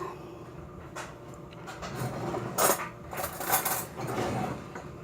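A fork pokes holes all over the top crust of an apple pie, giving scattered light clinks and soft scraping taps against the dish over a low room hum.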